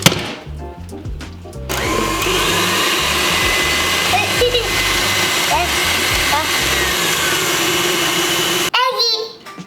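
Electric mixer beating chocolate cake batter, a loud steady whirring drone that starts abruptly and runs for several seconds before cutting off, with a voice heard briefly around it.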